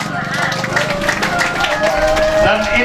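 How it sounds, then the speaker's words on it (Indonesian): Audience clapping at a cooperative branch inauguration ceremony in Malaka, scattered hands under a busy mix of voices, chatter and tonal music-like sounds close by. "Kita tepuk tangan."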